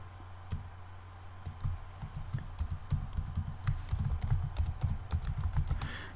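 Typing on a computer keyboard while writing a blog post, a steady stream of close, crisp key clicks and thuds with uneven rhythm and occasional louder keystrokes, with no voices.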